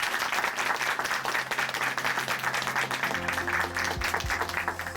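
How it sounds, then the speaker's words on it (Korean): A church congregation at Chuncheon Hanmaeum Church applauds after a testimony in a steady, dense patter of many hands that runs throughout, with a low music tone entering near the end. "다시 한번 박수 보내드리겠습니다."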